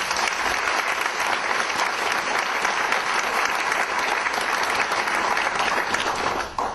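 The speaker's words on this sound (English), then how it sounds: "I would appreciate it if you would give her a round of applause" Sustained, loud audience applause at an economic recovery forum plenary session, a steady even roar of many hands that carries through without pause before cutting off at the end.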